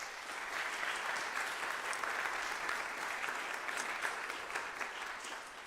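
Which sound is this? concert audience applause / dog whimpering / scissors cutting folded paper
concert audience applause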